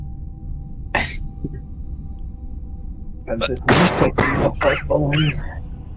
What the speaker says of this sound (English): coughed over you there